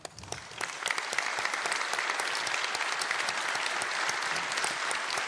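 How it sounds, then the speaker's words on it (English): An audience applauds a guest and her family at a gathering, a dense, sustained round of clapping that builds quickly and holds steady to the end. "I'd like for us to give you another round of applause and your whole family."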